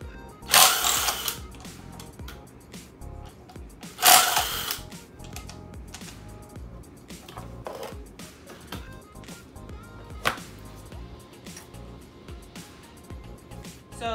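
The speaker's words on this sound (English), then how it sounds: "I'm gonna remove the existing skid plate with my 8mm socket." An 8mm socket removing the skid plate bolts from a 2020 Husqvarna FE350 motorcycle: a few sharp clanks and a hiss-like burst over soft ratcheting and handling noises, close by, with no clear talk.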